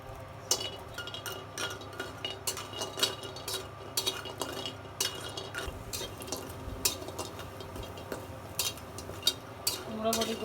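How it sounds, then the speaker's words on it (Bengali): Pumpkin lentil dumplings (kumro bori) frying in a wok, with a soft oily hiss and repeated metallic clinks and scrapes of a spatula stirring against the pan. "প্রথমে ভেজে নেব কুমড়ো বড়ি"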